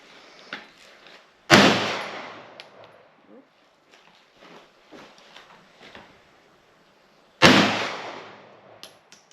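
Two loud, sharp pistol shots about six seconds apart on an outdoor shooting range in Arecibo, Puerto Rico, each ringing out with a long decaying echo, with faint clicks and handling noises in between.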